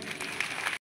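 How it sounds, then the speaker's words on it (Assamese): A crowd applauds at a panchayat election campaign rally attended by a minister and an MP, giving a short burst of dense, steady clapping that stops abruptly. "মই দুয়োজনৰ বাবে আপোনালোকৰ পৰা এটা আশীৰ্বাদ সূচক হাত চাপৰি বিচাৰিছোঁ।"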